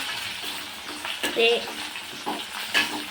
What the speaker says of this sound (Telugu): ఇవైతే వేపుతూ ఉన్నాను ఫస్ట్ వేపుకుంటే టేస్ట్ మంచిగా ఉంటాయి మునక్కాయ గుమ్మడికాయ